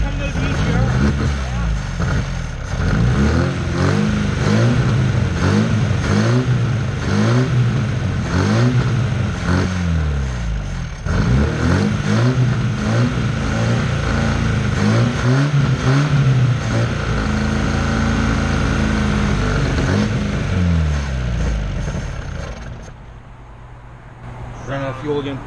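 A car engine in need of a valve adjustment revs up and down repeatedly, its valves slapping in a clattering rattle under the rising roar, with people talking nearby before it settles toward idle.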